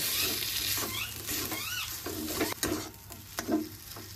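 Chicken pieces stirred into a spice mixture in a hot pan for a chicken samosa filling, with a steady sizzle and scraping, clinking strokes of a spoon against the pan close by.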